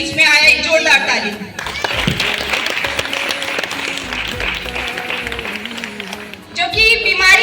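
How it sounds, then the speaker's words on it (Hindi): Audience applause in a crowded hall during a motivational speech for young people, a steady broad wash of clapping and cheering that lasts several seconds and swells again at the end, with voices mixed in. "एक जोरदार ताली।"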